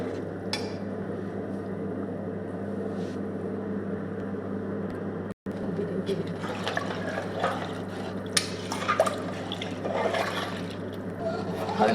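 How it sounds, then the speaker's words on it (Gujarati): Several large glasses of water are poured into a pot of lily toor dal (fresh pigeon peas), with splashing and pouring mostly in the second half over a steady low kitchen hum. "હવે આમાં આપણે 4 થી 5 મોટા ગ્લાસ પાણી એડ કરીશું, જેથી કરીને દાળ સરસ ચડી જાય।"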